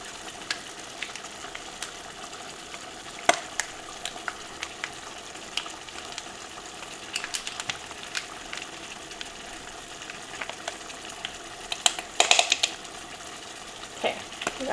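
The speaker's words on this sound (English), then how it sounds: "Okay, we got a little bit left there. Mix that in." Stirring sour cream into a one-pot dish, a soft, steady wet scraping and sizzling from the pot with a few sharper utensil clinks against the side, close by and fairly quiet, no talking.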